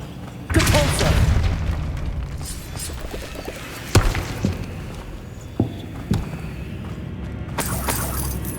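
Depulso force spell cast repeatedly in Hogwarts Legacy, heard as a sharp thumping blast followed by several separate bangs and impacts over a low rumbling dungeon ambience.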